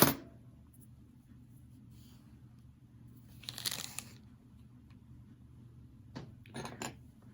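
Scissors snip through crochet yarn in a quiet room, one soft crunching cut in the middle and a couple of faint snips near the end.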